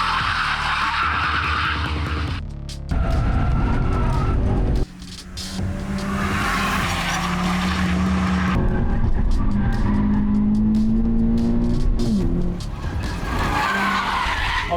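Toyota race cars lapping a circuit, engines roaring loudly and continuously with tire squeals and skidding, rising and falling pitch as cars pass close by, with brief drops between passes.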